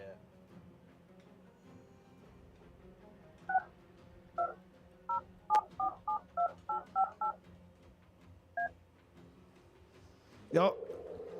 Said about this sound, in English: Y'all hear buttons dialing?